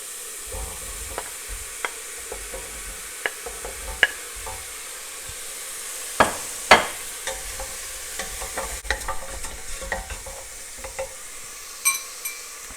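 Butternut squash and sweet potato fry in a pan outdoors in a forest, a steady soft sizzle under repeated scraping stirs and sharp clicks of a utensil against the pan, close up with no talking.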